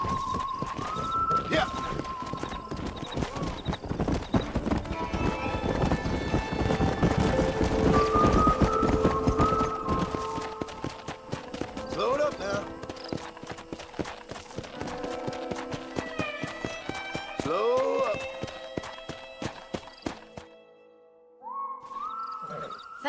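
Horse hooves clip-clop at a steady trot in the video game Red Dead Redemption, mixed with outdoor ambience and occasional voices talking, fading near the end.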